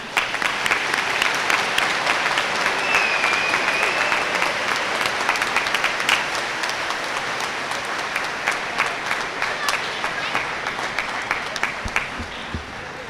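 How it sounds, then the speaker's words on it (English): An indoor audience at a senior awards ceremony gives a sustained round of clapping that holds steady, then slowly thins toward the end. "Let's give a round of applause to this first group."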